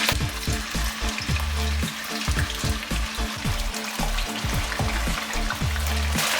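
Meat sizzling and frying in hot olive oil for Russian-style plov, a loud, dense crackling hiss with steady spitting pops throughout, close up and without talk.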